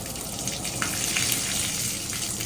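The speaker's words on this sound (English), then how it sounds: "start running the water" Hot water runs steadily from a tap into a tub or basin for soaking cleats at home, a constant broadband rush with a few small splashes, near and fairly loud, with no talking.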